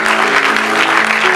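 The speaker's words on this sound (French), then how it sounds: "Est-ce qu'on peut acclamer pour le roi des rois?" Congregation at a French-language church sermon on fasting applauds and acclaims the king of kings, a steady wash of dense clapping throughout, loud and close, with no speech over it.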